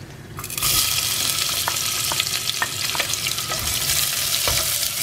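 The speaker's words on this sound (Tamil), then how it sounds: "இப்போ வெங்காயத்தை போட்டுருங்க." Onions sizzle and crackle loudly in a hot pan, with occasional stirring scrapes, starting abruptly as they hit the oil.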